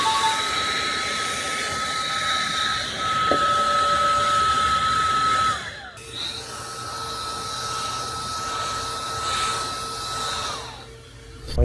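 A Third Line Alaska handheld cordless air-conditioner fan blows at high speed, trying to dry water off a car: a loud, steady whirring whine that cuts out briefly near the middle, then starts again and runs on.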